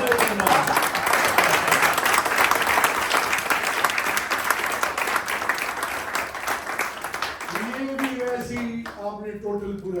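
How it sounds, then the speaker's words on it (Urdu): Audience applause at a reception, sustained steady clapping from a crowd for most of the stretch, fading toward the end as a voice begins speaking over the thinning claps. "سب سے پہلے میری بہن کے لیے پلیز دل سے تالیاں بجائیں"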